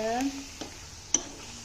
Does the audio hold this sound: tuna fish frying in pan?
yes